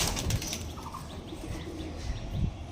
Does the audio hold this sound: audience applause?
no